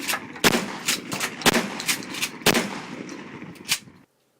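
A Mossberg 500 shotgun fires several loud, sharp blasts at roughly one-second intervals, each followed by a brief echoing tail, ending in silence.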